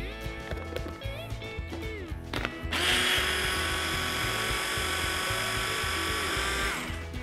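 Food processor whirring through boiled beetroot for a gluten-free pesto, a motor hum that swells into a loud, steady high-pitched blend about halfway through and holds for several seconds, close and alone.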